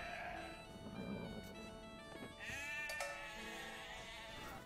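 Sheep bleating in a strategy video game, a few faint wavering bleats over a steady ambient game music backdrop.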